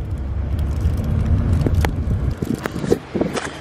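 Interior of a moving car on an errand run, with a steady low road rumble and cabin hum throughout, plus a few faint clicks and rustles near the end.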